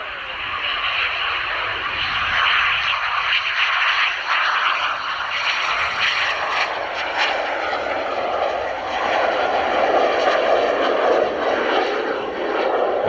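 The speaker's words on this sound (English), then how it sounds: "It was taking off from East Midlands Airport." An airplane taking off from East Midlands Airport after flying at the Midlands Air Festival, a steady loud engine roar that holds broad and sustained throughout with no voices.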